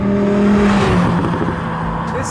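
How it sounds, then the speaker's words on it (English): A 2017 Audi R8 V10 engine roaring close and loud, pitch sliding down briefly and then surging in a short burst of revving. "this is the 2017 Audi R8"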